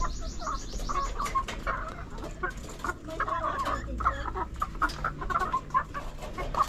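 Caged laying hens in a battery cage fitted with water drinkers cluck and squawk steadily and close by, with overlapping calls and irregular short knocks running throughout.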